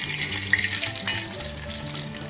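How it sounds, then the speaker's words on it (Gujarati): Sprouted moong tempered with spicy chutney in a frying pan: a continuous close sizzle and hiss with a few brief louder spits, over a faint low background hum. "મગ મોરા છે ને એટલે એકવાર એનો વઘાર કરવાનો છે તીખા ચટણી નાખી"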